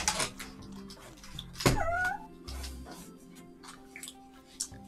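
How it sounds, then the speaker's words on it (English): A chair creaks with an odd, drawn-out squeal that rises in pitch, set among other scattered clicks and rustles in a room. "That was actually the weirdest chair squeak I've ever heard."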